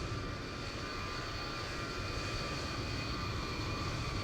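A Boeing airliner's engines in Microsoft Flight Simulator produce a steady, continuous whine and roar with sustained high tones, holding at an even level throughout.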